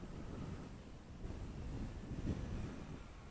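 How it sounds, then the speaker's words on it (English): Steady gusty wind at an outdoor RC plane flying field, a continuous low rumbling buffet across the microphone with no voices. "a considerable amount of wind, especially 20 to 30 feet off the ground"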